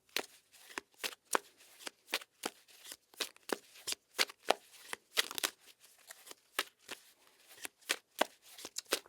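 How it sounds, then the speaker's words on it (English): A deck of tarot cards is shuffled by hand in a steady run of crisp, close riffling snaps, repeating roughly every half second with no talk over it. "as I'm shuffling here"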